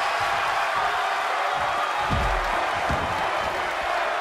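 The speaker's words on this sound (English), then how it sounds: "The sound of this crowd is deafening, and he's asking for more." Dense, steady roar of an arena wrestling crowd in WWE 2K23, a loud unbroken wash of cheering with a few low thumps from the ring, no talk over it.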